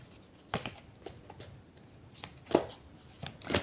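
A deck of cartomancy cards being shuffled by hand, heard as soft, irregular riffling and slapping bursts that are close and fairly quiet, with no talk.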